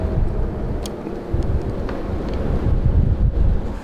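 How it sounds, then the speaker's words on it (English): Cold wind blows outdoors during Maine archery season, buffeting the microphone with a continuous low roar and rumble that stays loud and unbroken throughout. "Brr, that wind's cold."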